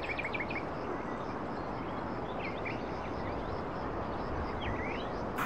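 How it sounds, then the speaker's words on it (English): Birds sing outdoors on a spring day in short, scattered chirps and calls, fairly faint above a steady broad background hush, with no one speaking. "Just the sound of those birds singing"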